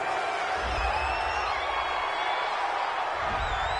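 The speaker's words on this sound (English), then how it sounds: "This home crowd, they're happy with that" In a PS4 American football game, a home crowd cheers with a steady, dense roar that swells slightly at the start and end, filling the whole moment without pause.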